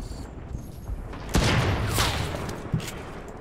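Gunfire in Fortnite Battle Royale, a couple of loud nearby shots with rolling echoes trailing off, alone with no talk.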